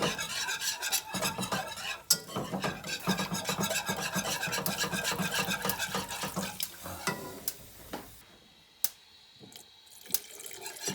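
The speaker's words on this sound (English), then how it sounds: "making sure you're adding gradually and whisking so that you can fully incorporate it" Whisk scraping and swishing through a roux in a pot as stock is gradually added for a chicken velouté sauce, close rhythmic stirring that slows and thins out to sparse clinks near the end, no talking.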